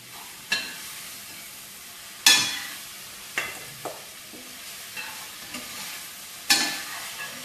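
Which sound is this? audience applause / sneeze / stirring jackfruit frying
stirring jackfruit frying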